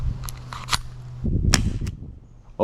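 A CO2-powered airsoft pistol fires several sharp cracks, with a couple of quick pops followed by a louder, denser burst near the end, heard close and alone.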